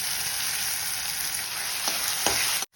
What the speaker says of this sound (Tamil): மசிச்சு வச்சிருக்க கத்திரிக்காவை போட்டு வதக்கிக்கலாம்.